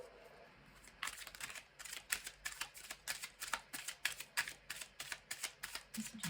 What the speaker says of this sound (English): we will give the deck a few more shuffles